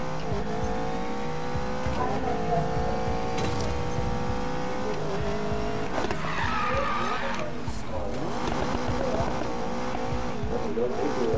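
A car in a racing video game accelerates hard with rising engine whine and prolonged tire squeal and skidding, loud and continuous, with voices talking over it.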